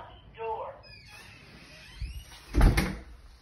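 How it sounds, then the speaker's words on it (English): A townhome's front door opens with a short creak and squeal followed by a louder thud of the latch and door moving, heard close up with a voice speaking briefly beforehand. "Front door."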